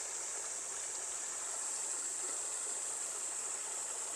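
Cool water poured over a phone outdoors makes a steady, soft hiss and trickle that holds evenly throughout, faint and with no talk.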